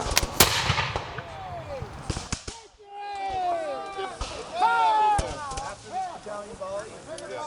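Continental Army soldiers fire a single musket volley on command at Dey Mansion, Washington's Headquarters: one loud, sharp crack at the start rolls away over a couple of seconds, followed by a brief quiet and then voices and background sounds.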